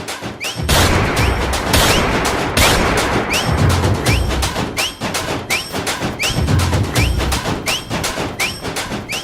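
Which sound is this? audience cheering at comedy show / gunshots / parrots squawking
gunshots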